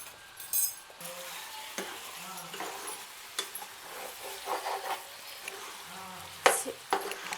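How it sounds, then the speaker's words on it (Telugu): A spoon stirs turmeric into country chicken curry in a pan with gentle sizzling and repeated scraping clinks of metal against the pan, steady and close; no voices. "దీన్ని బాగా ఇలా కలుపుకోవాలి."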